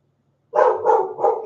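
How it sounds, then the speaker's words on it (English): A pet dog barks three times in quick succession indoors, fairly loud and close, after a moment of near silence, with no talking over it. "What are you barking?"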